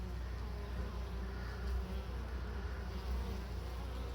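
Quiet, continuous insect buzzing at a honeybee hive under a yellow jacket wasp raid, a low steady drone with slight swells, heard close and alone.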